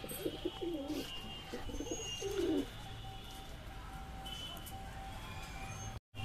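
Close, bubbling coos from pigeons just out of their loft come in a few clustered bursts during the first half, then fade into quiet background hiss and distant bird chirps.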